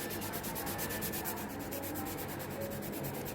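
An acrylic nail extension is filed into shape with quick, steady back-and-forth rasping strokes, close and continuous, with no voices.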